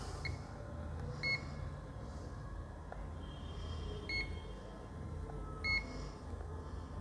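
A multimeter on its continuity range gives three short, spaced electronic beeps while probing a dead Samsung F23/M23 smartphone on a repair bench, over a quiet background hum.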